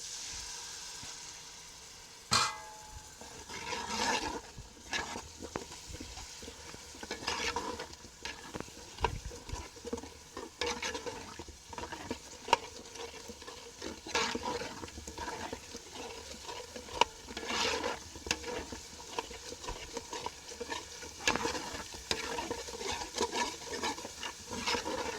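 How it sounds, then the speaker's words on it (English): A spoon stirs and scrapes a frying tomato base for jollof rice in a pot, soft sizzling underneath with intermittent scraping knocks, fairly quiet and close, no voices. "So I'm going to turn it, scrape up the parts below that won't start burning"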